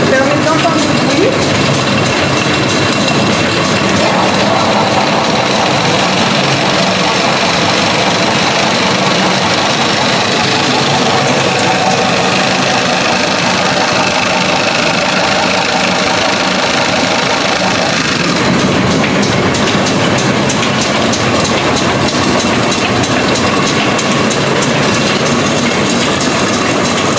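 A pedal-driven sewing machine in a shirtmaking museum runs for a long stretch, giving a steady, loud, rhythmic clatter and hum with some talking in the background.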